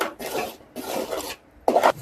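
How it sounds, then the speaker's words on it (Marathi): A spoon scrapes and stirs puran poli filling in a pan on the stove, in three close rasping strokes with short pauses between them. "याला सतत हलवत राहायचं, जेणेकरून हे खाली चिटकणार नाही,"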